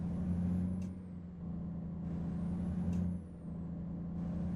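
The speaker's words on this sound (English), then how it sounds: "you hear the truck, but is it loud enough?" Steady low diesel drone of a truck engine in American Truck Simulator, with two sharp hissing air-brake bursts a couple of seconds apart, heard alone at moderate level.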